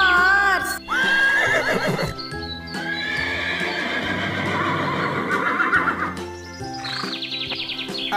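A horse neighs loudly in a long, shaky whinny, then calls again more briefly, with hoof clops and light bird chirps around it over background music.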